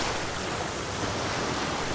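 Ocean waves sweeping onto a sandy beach near a lifeguard stand, a dense continuous wash of surf with some wind, steady and fairly loud, with no voices.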